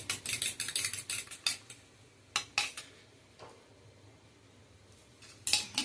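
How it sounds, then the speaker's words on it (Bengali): Eggs are beaten by hand with a utensil on an old plate, producing fast bursts of light clattering taps separated by short pauses, fairly quiet and close. "বাঁ হাতে করে ফেটাই, ডান হাতে একদমই হচ্ছে না।"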